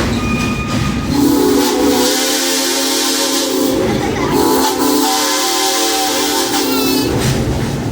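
A loud, sustained steam train whistle blows with a hissing, breathy tone, close and continuous, briefly dipping before sounding again over rushing steam.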